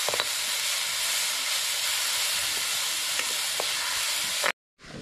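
Onions fry in a pan on a wood-fired stove for a prawn masala. A loud, steady hiss of sizzling comes with a few clinks of stirring, then cuts out abruptly near the end, with no talking.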